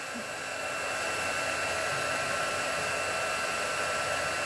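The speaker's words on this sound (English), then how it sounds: "love the pink heat tool" A pink craft heat tool blows steadily for several seconds on a mixed-media canvas project, giving a constant loud broadband whoosh with no voices over it.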